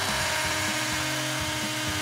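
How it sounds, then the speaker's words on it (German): A small hole is drilled through the crossing point of two wooden ice cream sticks, a steady high whine of a small drill that pulses rhythmically a few times, close and alone. "Jetzt bohren wir ein kleines Loch durch den Schnittpunkt dieser 2 Stiele."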